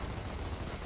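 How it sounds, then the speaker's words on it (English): A grenade blast in Gears of War heard as a dense, rumbling burst of explosive noise filling the moment, fairly faint and under the game's din. "we just got grenaded"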